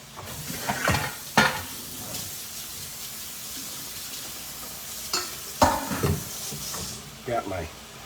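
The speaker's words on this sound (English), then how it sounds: "we're softening up the onions" Onions sizzle steadily in a hot pan, with a utensil stirring and scraping now and then, and a voice talking faintly in the background.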